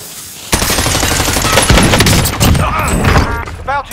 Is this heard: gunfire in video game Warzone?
yes